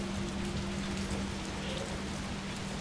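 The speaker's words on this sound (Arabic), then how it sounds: "افلام الرعب اكثر شيء بخوفك صوت المطر" Steady rain falling outside a window, a dense, even hiss of drops with a low continuous hum underneath, no talking.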